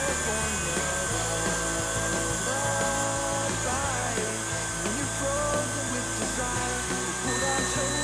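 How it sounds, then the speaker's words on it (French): A stand mixer's motor runs at high speed whipping egg whites with sugar, giving a steady, loud, unbroken whine and whir close by throughout. "on fait bien monter les blancs"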